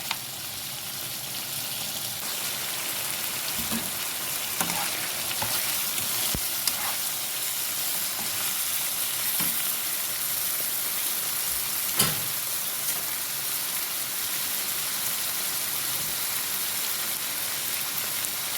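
Chopped liver stir-fries over high heat in a pan, giving a continuous loud sizzle with occasional crackles and stirring scrapes and no voices.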